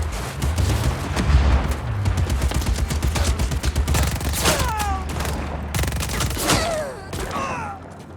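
Dense, continuous gunfire and explosions fill a Just Cause 4 firefight, loud and close throughout, with several whistling rounds in the middle and a shouted voice briefly audible over the shooting.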